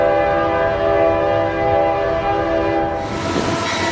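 A long freight train led by an AC4400 with five locomotives sounds a loud, sustained horn chord close by, over a steady rumble of engines and wheels that brightens toward the end.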